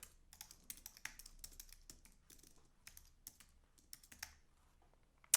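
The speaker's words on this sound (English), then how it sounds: "I might just type in the address of the listing." An address is typed on a computer keyboard in quick, uneven bursts of close, crisp key clicks. A sharper tap lands at the end, and no one talks.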